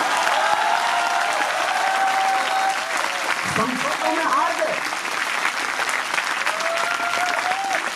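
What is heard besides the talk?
audience applause at poetry recital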